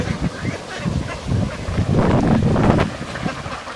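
Ducks in a net-enclosed, low-cost farm pen with bathing water, giving a busy run of quacks and honk-like calls over steady wind buffeting at the microphone, fairly close and continuous throughout.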